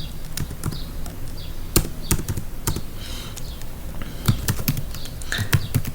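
Typing on a computer keyboard: close, irregular bursts of clicking keystrokes with short pauses between runs and a few heavier key presses, no voices.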